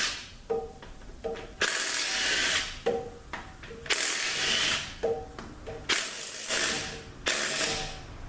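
Pump bolts come out of a 5R110W automatic transmission during a teardown, driven by a power tool or ratchet in about five loud, close bursts of whirring separated by short pauses, with no talk.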